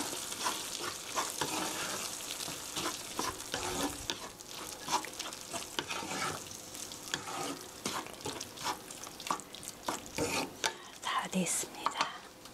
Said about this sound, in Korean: 고루 섞어주세요.